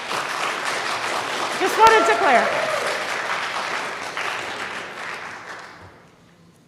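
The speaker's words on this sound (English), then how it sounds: "So I guess we're not clapping for everyone, we're just clapping for one side." Audience at a school board meeting breaks into sustained applause that swells and then fades out toward the end, with a voice speaking briefly over it.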